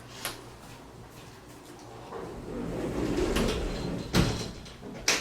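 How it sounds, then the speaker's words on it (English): An indoor door slides and shuts with a soft rolling rumble followed by two sharp knocks as it closes, near and fairly loud in a quiet room. "And I am going to close that door real quick."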